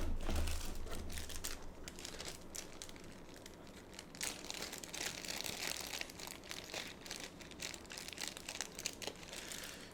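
Crinkling plastic and rustling packaging as a Kananic L82 mechanical keyboard with interchangeable switches is unboxed, close and continuous with irregular crisp crackles and crunches, no talking.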